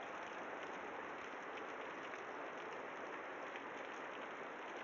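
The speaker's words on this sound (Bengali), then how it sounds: "খুব বৃষ্টি পড়ছে।" Heavy rain falls outdoors in a steady, even hiss that lasts the whole stretch without a break. It sounds soft and slightly distant, and no voices are heard.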